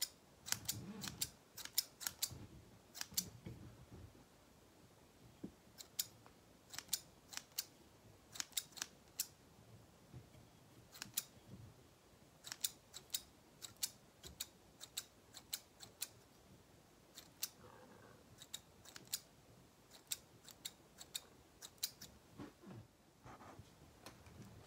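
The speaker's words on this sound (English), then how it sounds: "I like to stand up all these fibers so I can cut them evenly." Small scissors trim upright fly-tying fibers on a shrimp redfish fly, giving many quiet, close, sharp snips in an irregular rhythm with no talking.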